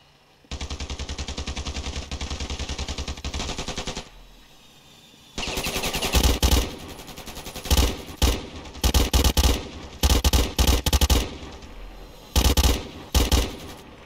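Gunfire in the video game Ravenfield: a sustained automatic burst, a short pause, then a series of loud rapid bursts separated by brief gaps, all close and dominant.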